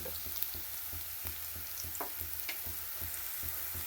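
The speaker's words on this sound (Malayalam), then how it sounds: "ചുമന്നുള്ളി വെളുത്തുള്ളി വെളിച്ചെണ്ണയിൽ വഴറ്റുകയാണ്" Shallots and garlic sauté in coconut oil with turmeric, giving a steady crackling sizzle with soft regular stirring taps against the pan about three times a second, fairly quiet and without speech.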